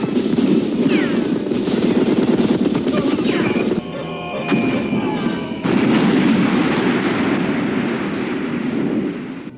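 Dense sustained automatic gunfire from a horror film scene where FBI agents shoot from cover, loud and continuous with a brief lull before the barrage resumes.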